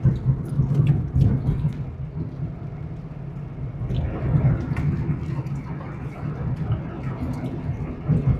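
Rain pours on a moving car on the Mumbai–Goa highway, a steady close hiss and patter over a low road rumble inside the cabin, continuous and fairly loud.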